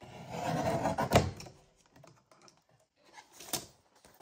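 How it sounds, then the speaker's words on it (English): Several sheets of printed double-sided paper are trimmed of their white borders, giving short close scraping, cutting and rustling sounds in quiet bursts. "So next I can trim off all the white borders."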